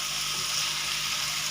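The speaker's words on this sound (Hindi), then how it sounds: "जो प्याज फ्राई कर रही हूँ इसके अंदर आधा कप ही ऑयल का डालेंगे" Onions frying in half a cup of oil in a pan, a steady close hiss and crackle of sizzling with a faint low hum beneath.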